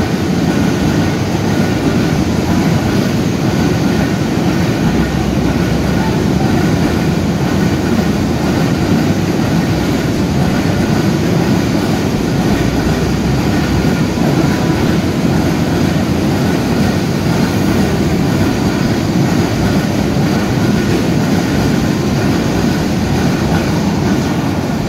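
A locomotive hauls thirty-two oil tanker wagons on a through pass at Akkelpur railway station, a loud, steady rumble and rattle of wheels on track that holds close and unbroken throughout, with no voices.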